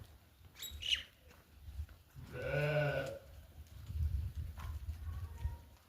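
A sheep lets out a single loud, wavering bleat close by, with faint rustling and low background noise before and after.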